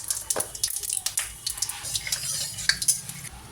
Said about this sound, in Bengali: দিয়ে দিলাম তেলে পাঁচ ফোড়ন